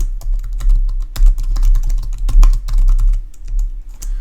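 Rapid clicking of a computer keyboard, with keystrokes in quick irregular bursts and a few heavier taps, close and clear over a low background hum, with no voices.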